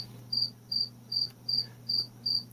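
Crickets chirp in an even, steady rhythm, six bright pulses at about half-second intervals over a low constant hum, fairly close and clear.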